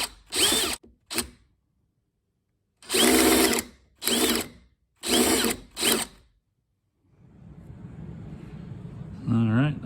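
A power drill whirs in several short, loud bursts with pauses between, drilling out roof trim rivets on a Fox-body Mustang T-top, followed by a lower rumbling noise and a brief voice.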